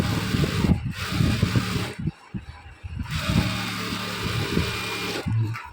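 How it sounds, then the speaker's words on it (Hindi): A sewing machine stitches kurti fabric in close, continuous bursts of rapid whirring and needle chatter. Short pauses break up the stitching, and a few faint sounds of fabric being handled fall between the runs. "सिलाई की और दोनों को सेम हमने ऐसे ही स्टिच कर लेना है।"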